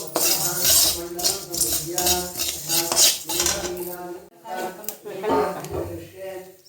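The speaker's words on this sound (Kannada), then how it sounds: "ಒಂದು ಅರ್ಧ ಚಮಚ ತುಪ್ಪ ಹಾಕಿ ಹುರಿಬೇಕು" Soaked rice roasts in ghee in a pan, stirred with a metal spoon that scrapes and clinks repeatedly in close, uneven strokes, with a voice talking over it.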